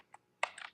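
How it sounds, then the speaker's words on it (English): Brief clatter of computer keyboard keys as a web address is typed into a browser, a single click followed by a quick cluster of close, crisp keystrokes. "go to your normal browser, such as this one, type in certified"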